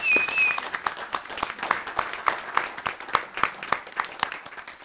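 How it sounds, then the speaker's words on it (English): Scattered applause at a city council meeting, a modest number of people clapping in a room, fairly sparse claps with some louder distinct hits, moderately quiet. "Just give him a round of applause."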